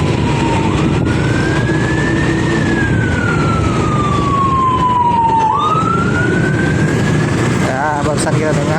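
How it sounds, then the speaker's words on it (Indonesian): Ambulance siren wailing in slow rising and falling sweeps as it passes on a busy Jakarta road, heard over steady motorbike engine and wind noise from a rider, with talking over it. "Barusan kita dengar sirine ambulans"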